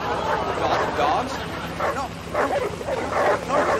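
Released dogs bark and yip in repeated excited bursts, close and fairly loud, with some whimpering and voices talking over them.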